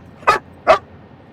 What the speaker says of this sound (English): people that are watching probably don't like you barking into the microphone